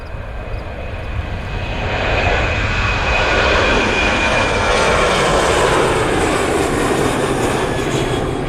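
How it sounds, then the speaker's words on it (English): An American Airlines Boeing 737-800, presumably empty, on the runway: a loud, continuous engine roar that swells early on and then holds steady and powerful to the end. "See how much runway presumably empty American 737-800 takes up."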